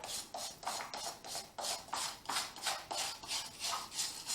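A stiff brush scrubs a saw blade coated with blade cleaner in rapid, even back-and-forth strokes, about a dozen rasping passes, close and steady with no talking.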